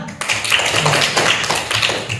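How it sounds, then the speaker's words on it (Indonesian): Classmates in a microteaching lesson clap their hands in a short burst of loose, fairly close slaps, a scattered group patter that holds steady for about two seconds. "tepuk tangan dulu"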